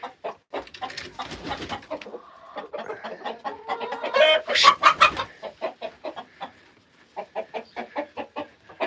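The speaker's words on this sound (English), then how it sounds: "Hey, you were a sneaky rooster." A rooster clucks in short repeated bursts, close by on a farm, with a brief louder squawk midway, in a quiet setting.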